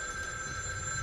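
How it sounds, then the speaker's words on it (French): A telephone rings in the horror video game The Evil Within 2, its steady electronic trill sustained and fairly loud over a low ambient rumble. "Ah, le téléphone."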